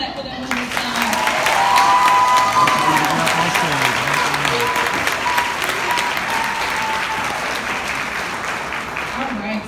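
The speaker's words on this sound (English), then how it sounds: "So couldn't we clap for them one more time?" An audience at a high school commencement ceremony claps for the students in loud, sustained applause that fills the hall, with a voice audible over it.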